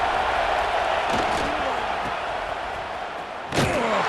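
A stadium crowd roars in EA Sports College Football 26, a loud continuous wash of noise with sharp slams and thuds cutting through, the biggest hit near the end.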